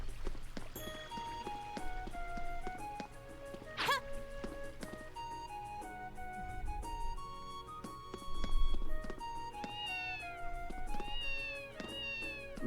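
A cat meows repeatedly in the video game Zwei: The Ilvard Insurrection, short rising and falling cries over soft game music and effects, fairly quiet overall.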